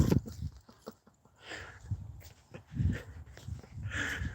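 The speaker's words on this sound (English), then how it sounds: "Massively excitable dog there." An excitable dog on a morning walk pants, whimpers and scuffles up close in short irregular bursts, its paws thumping about, with no talk over it.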